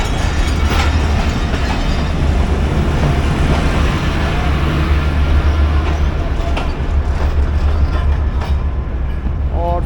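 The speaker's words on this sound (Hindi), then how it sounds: "ये रेल कार का रैक है जी, ये पार्लर कार आ गई" Passenger rail cars of the Sandal Express rolling through a Pakistani station, a loud, close, continuous rumble with rhythmic clickety-clack from the wheels and faint metallic squeals near the end.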